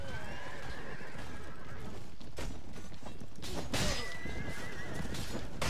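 A horse whinnies in the game Mount and Blade Warband (Floris mod), with hoof clip-clop, creaking mechanisms and light background noise.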